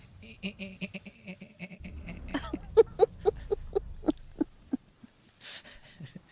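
A voice imitates the Six Million Dollar Man bionic running sound with a quick series of rhythmic, pulsing vocal bursts, heard close and fairly quiet after a few soft breathy noises.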